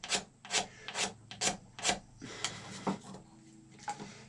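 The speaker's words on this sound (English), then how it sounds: "So when I'm scraping, I'm holding the blade vertical to the horn and just pushing." A blade held vertical to a powder horn is pushed along it, giving repeated rough scraping strokes at a steady rhythm, about eight close, dry rasps, with no talking.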